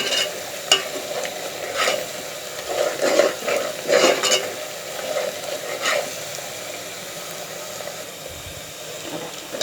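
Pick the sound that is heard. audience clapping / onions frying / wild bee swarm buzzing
onions frying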